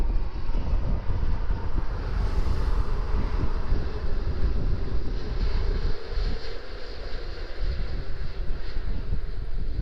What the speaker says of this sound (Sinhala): එමිරේට්ස් ෆ්ලයිට් එකක්. සෑහෙන ළඟින් යන්නේ අපිට.